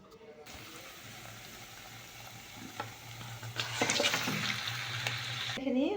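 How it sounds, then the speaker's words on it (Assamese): Onions fry in a wok with five-spice seeds, hot chillies and cardamom, making a soft, continuous sizzle that rises louder toward the end, with a faint low hum underneath. "এয়া কেৰাহীখনত পাঁচফোৰণ, জলকীয়া, ইলাচি দি পেলাই পিঁয়াজখিনি আগতীয়াকৈ অকণমান ভাজি লৈছোঁ।"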